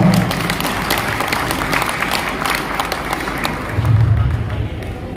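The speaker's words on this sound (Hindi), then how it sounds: "साथ में इस वाईटीएम परिवार के टोटल मैनेजमेंट के लिए जबरदस्त ताली चाहूंगा।" A crowd at a company anniversary celebration in Raipur claps for the management, a loud, continuous roll of applause with some low thumps and a murmur of voices mixed in.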